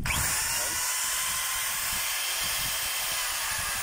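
A DWD024 power tool under repair runs steadily, a close, continuous high whining drill-like hiss with no break.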